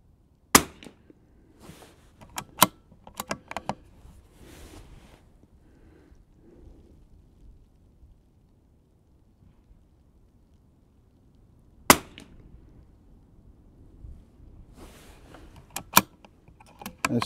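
A CZ 455 Trainer rimfire rifle fires Eley Contact and SK Long Range Match ammunition outdoors in wind: a handful of sharp, isolated cracks spread irregularly across long near-silent gaps.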